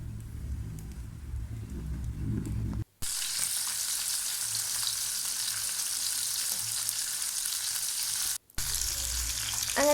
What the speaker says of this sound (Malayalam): ഇനി ഇത് മാറ്റിയിട്ട് ഞാൻ മീൻ ഫ്രൈ ചെയ്യാനായിട്ട് പോവാണ്.